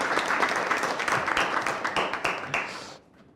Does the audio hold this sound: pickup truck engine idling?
no